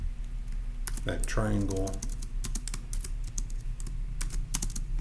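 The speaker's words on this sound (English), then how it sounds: "let me go ahead and type that up in section D" Rapid clicking keystrokes on a computer keyboard, close and crisp, come in a quick irregular burst after someone speaks briefly.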